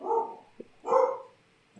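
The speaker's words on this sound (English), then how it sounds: "the dog's barking" A dog barking indoors during a podcast recording, two moderate barks about a second apart with a faint thump between them, heard alone.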